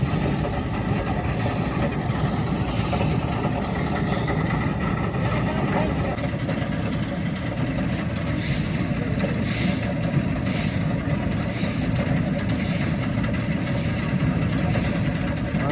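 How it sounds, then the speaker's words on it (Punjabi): A generator engine running on a farm during the paddy harvest, a steady loud drone with rhythmic pulsing that holds unchanged throughout, with voices faintly in the background. "ਲੈ ਵੀ ਜਨਰੇਟਰ ਹੋ ਗਿਆ ਗਰਮ"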